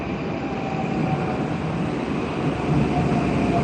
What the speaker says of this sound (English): It's like 30 seconds to 1 minute for the train to come.